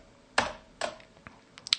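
A few faint, sharp clicks from a computer keyboard's tab key, two clearer presses followed by softer taps, close and isolated in a quiet room.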